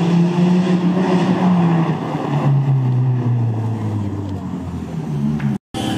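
Cars at an amateur motoring event in Cieszyn, Poland, engines droning loudly at changing pitch as they drift, with wind buffeting the microphone and a brief dropout near the end.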